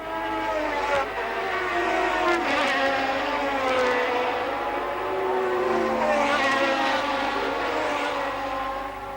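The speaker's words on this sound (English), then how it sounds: "The Williams actually pulling away a little bit on the twisty bits at the back of the circuit and beginning to close up a little bit on Ne" Normally aspirated 1988 Formula 1 cars, including a Williams and a Lotus Honda, racing at the Imola circuit in Italy: a steady, loud engine whine with shifting tones as cars pass, no talk over it.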